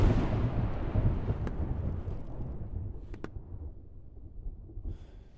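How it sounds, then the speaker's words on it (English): A thunderstorm rumbles in the mountain-climbing game Peaks of Yore, with a sustained low roar of thunder and rain that slowly fades, plus a couple of faint sharp crackles, with no talking. "Looks like it's brewing up a storm."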